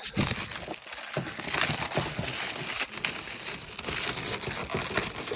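Plastic packaging on new car door cards for a Volkswagen Passat B5+ crinkles and crackles continuously as it is handled and pulled open, close by and fairly loud, with no talking.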